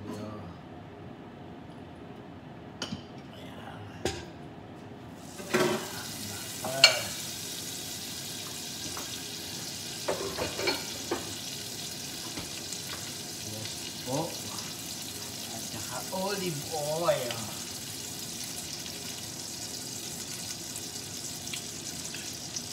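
Butter and olive oil start sizzling in a pan for shrimp, a steady hiss rising after a few seconds and running throughout, with scattered clinks and stirring; a voice talks intermittently over it.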